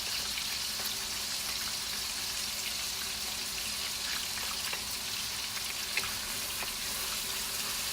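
Meat and garlic fry in a pan for drunken noodles, giving a continuous close, even sizzle and crackle with small pops throughout and no talking.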